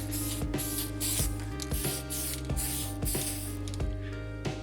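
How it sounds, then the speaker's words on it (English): Spray paint hissing onto a car part, a close, loud hiss broken into repeated short bursts with brief clicks between them. "then hit it with some spray paint."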